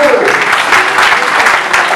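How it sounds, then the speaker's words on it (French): Wedding guests applaud in a broad, steady wash of clapping that runs the whole two seconds without a break, loud and close, with a hint of voices mixed in. "On applaudit."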